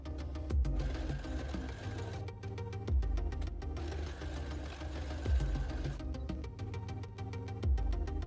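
A sewing machine stitching a Tusken Raider outer robe runs steadily and close, with a rapid mechanical chatter that slows and restarts in repeated passes.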